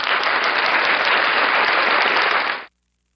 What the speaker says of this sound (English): We're going to have to get applause for this one.